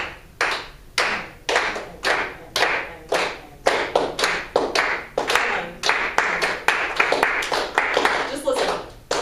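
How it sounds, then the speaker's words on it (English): A group claps a rhythm together during a music rehearsal, sharp hand claps repeating in steady short bursts throughout, loud and close, with voices occasionally audible underneath. "Clap the rhythm with me real quick"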